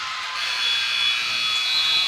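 Game-ending horn at a girls' varsity high school basketball game between Pella Christian and Montezuma, a loud steady electronic buzzer tone sounding continuously over gym crowd noise.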